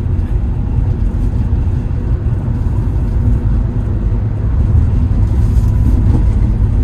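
A Toyota Avanza Veloz descends from the foothills of Mount Wilis in third gear. Its engine gives a steady, close low drone and road rumble inside the cabin, with no break throughout.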